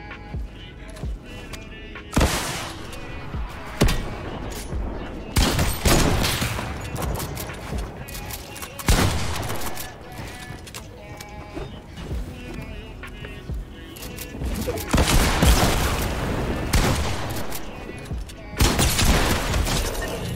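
Drum gun fire in a video game, with rapid bursts of shots and heavy booms arriving in several loud clusters over a noisy background, with a voice talking at times.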